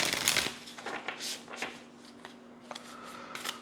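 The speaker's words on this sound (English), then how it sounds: "We just get one shuffle." A tarot card deck riffled in one quick shuffle, a dense papery burst of card flutter near the start, then softer scattered flicks and taps of cards being squared, close and fairly quiet.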